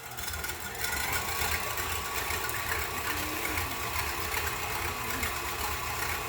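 An electric mixer beats macaron batter at medium speed in a kitchen, a steady, even motor whir with a rattling buzz that holds constant throughout.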